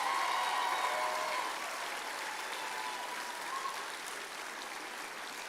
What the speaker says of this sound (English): how about a real round of applause for these graduates?